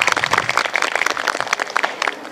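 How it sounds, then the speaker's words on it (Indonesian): Vocational high school students at SMK Muhammadiyah 1 Lamongan clap together in a dense, loud burst of rapid applause that holds steady throughout. "Boleh tepuk tangan kalau semangat."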